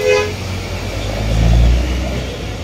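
An Agramas executive-class bus rumbles at Grogol bus terminal in Jakarta, its low engine swelling louder as it moves close by, with a brief horn toot at the start amid terminal bustle.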